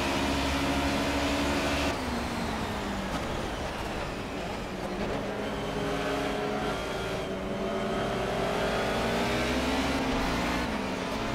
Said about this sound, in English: Really feathering the throttle here, out of the corners in particular.